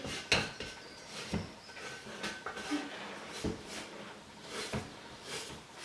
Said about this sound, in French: Donc là, on racle les parois du bol.